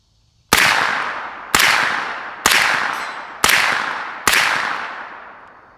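Five loud, evenly spaced shots from a ZF5 9mm pistol with a YHM R9 suppressor, firing 115 grain Monarch rounds. Each crack is sharp and followed by a long ringing decay, with no voices.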